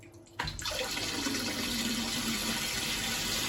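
Toilet cistern refilling after a flush, a steady rushing hiss of water starting abruptly and running on continuously at close range, with no talk over it.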